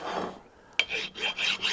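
A Mastercraft metal file rasps back and forth across the body of a vintage Wilton No. 4 bench vise, a few close, gritty strokes in quick succession with no speech.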